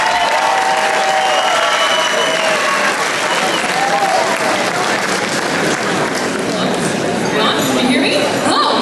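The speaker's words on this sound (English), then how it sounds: "Please, for the next warm round of applause, help me welcome Maria Papadakis." A dense, loud roar of applause and cheering from a gala ball audience at the Blue & White Ball, sustained without a break, with crowd chatter mixed in.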